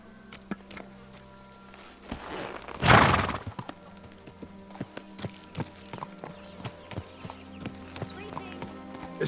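Horse hooves clip-clopping in a steady walking rhythm on hard ground in a medieval open-world game, with a loud crash or whoosh burst early on and people talking nearby over the hoofbeats.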